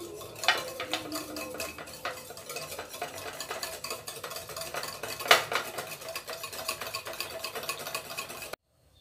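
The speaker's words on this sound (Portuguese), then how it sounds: "Vamos misturar bem aqui." A spoon stirs cabbage salad with a yogurt and olive oil dressing in a bowl, giving a continuous run of soft scraping and light clinking taps at close range, with a couple of sharper clicks, then abrupt silence.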